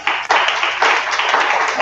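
A group claps together in time during a practice session, a short burst of crisp, fairly loud hand claps in quick succession with faint voices in the room.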